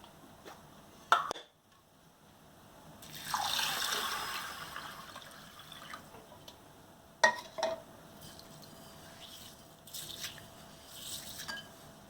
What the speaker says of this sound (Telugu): ఇట్లా వాటర్ వేసి కడిగి మళ్ళీ వేరే నీళ్ళు పెట్టుకోండి.